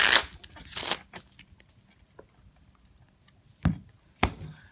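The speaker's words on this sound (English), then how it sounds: "You can have the spectator shuffle the deck." A deck of playing cards is shuffled by hand in a quiet room, with short riffling bursts at the start and two sharp snaps near the end, close and fairly faint.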